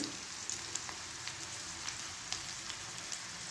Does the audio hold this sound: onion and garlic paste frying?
yes